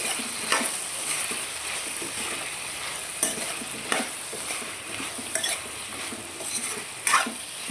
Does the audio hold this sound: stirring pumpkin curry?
yes